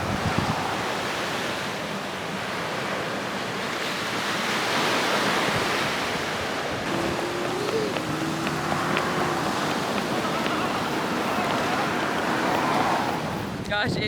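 Ocean waves wash onto the shore in a continuous broad roar with swelling surges, mixed with some wind buffeting on the microphone.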